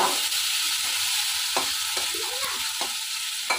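Tomato being stirred into fried potatoes in a hot pan for a rohu fish curry, a steady close sizzle broken by a few scraping stirs of the spatula, no voices.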